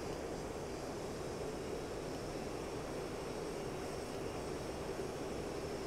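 A Mirage F1 jet from a flight simulator game cruises steadily, its engine a continuous broadband roar with a faint high whine, unchanging in level throughout and free of speech.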